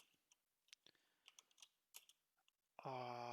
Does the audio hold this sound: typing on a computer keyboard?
yes